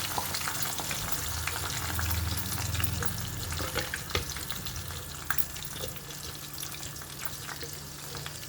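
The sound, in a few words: ground masala frying in pan for fish curry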